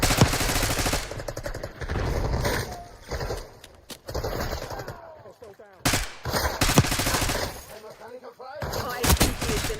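Bursts of video game gunfire during an escort mission, crackling in loose volleys with brief pauses and sharp individual shots, mixed with other game sounds and intermittent voices throughout.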